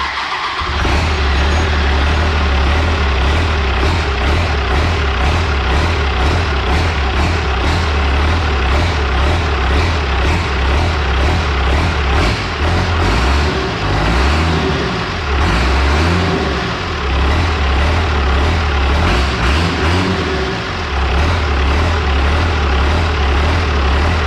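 A Cummins 6BT diesel truck engine with a replaced gear case runs steadily at idle with no gear whine, a loud, close, continuous rumble that rises in revs a few times.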